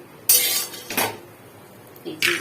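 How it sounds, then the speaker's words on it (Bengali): Cooked food being lifted off the stove and set into a bowl, giving a few sharp metallic clinks and scrapes of pot and utensil in a quiet home kitchen, with short bursts separated by pauses. "নামিয়ে বাটির মধ্যে রেখে দিচ্ছি"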